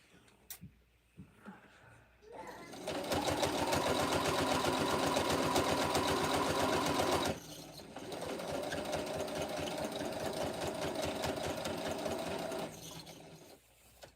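A sewing machine stitches the borders of a rag quilt, running loud and steady in two long bursts with a short pause between, and faint handling noise before and after.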